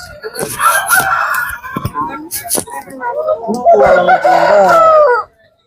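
A rooster crows loudly and close by at a livestock market in Erode district, two long drawn-out calls separated by a few seconds of clucking and rustling.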